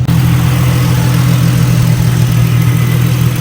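A Lamborghini's engine turns over and settles straight into a steady, loud idle with a deep, even rumble that holds unbroken to the end.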